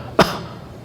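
A single short, sharp cough bursts out close by, then fades into quiet room tone.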